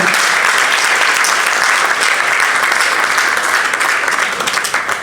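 An audience at a foundation launch event in Kinshasa applauds the Equity bank sponsor, a loud, dense, sustained clapping from a large crowd that continues evenly and eases slightly at the end.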